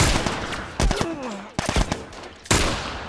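Gunfire in The Last of Us: loud bursts of rapid shots in several clusters with sharp cracks and a whining tone between them, close and dominant.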